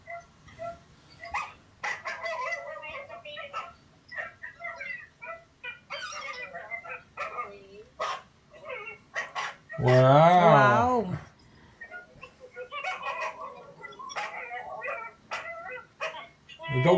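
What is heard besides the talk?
dogs barking and whimpering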